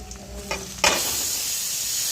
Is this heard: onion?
yes